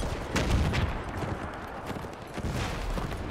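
Soldiers in a WW1 strategy video game fire their rifles at will, a dense, rolling crackle of overlapping gunshots with no pause.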